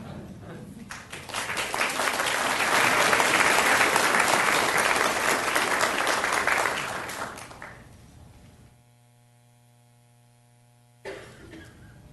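An audience at a school board meeting claps for an award winner, with dense, loud applause swelling for about seven seconds before fading out into near silence.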